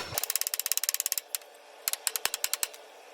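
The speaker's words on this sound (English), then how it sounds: "So I'm gonna tap it and see if I can clear away any more material" A hammer taps on the brake drum hub of a Hustler Super Z mower in fast, evenly spaced sharp metallic strikes, about twenty in a row, then a short pause and a second, sparser run of taps.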